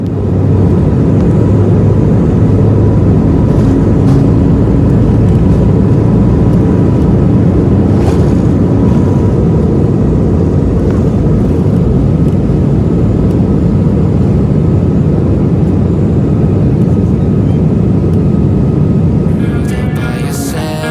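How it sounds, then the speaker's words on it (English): An Etihad Airways airliner takes off from Abu Dhabi on a clear morning, heard as a loud, steady roar of engines and rushing air that fills the whole stretch and eases slightly at the end. "within minutes we were on the runway taking off out of Abu Dhabi on a bright, clear morning"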